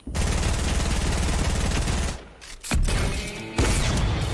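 Rapid, loud bursts of gunfire from a charge shotgun in a video game, dense repeated shots filling most of the moment, with a short lull before firing resumes.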